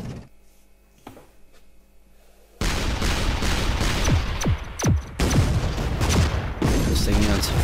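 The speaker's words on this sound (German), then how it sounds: "Die Schüsse, die man hier machen kann gegen mich, sind ja schon nicht gerade ohne" Artillery shots in the video game ShellShock Live start after a quiet stretch, with a run of loud booms and sharp bursts that overlap in a busy, continuous barrage. Someone talks under the blasts.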